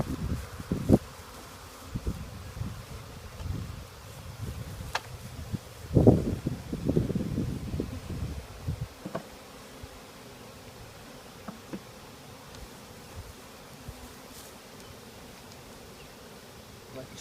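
Honeybees swarm around an opened hive set on city property, a dense, continuous buzz with wind and a few soft knocks and rustles near the start.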